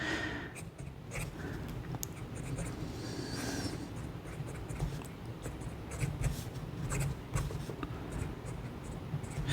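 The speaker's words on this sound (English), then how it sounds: "let's see how the Diplomat Aero writes" A Diplomat Aero fountain pen scratching across paper, close and quiet, with soft irregular strokes and small ticks as the nib moves and lifts.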